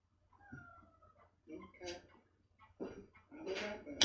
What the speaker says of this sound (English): That was my kitty cat